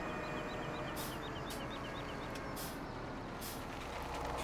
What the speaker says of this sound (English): I just pass this guy to slam on the brakes.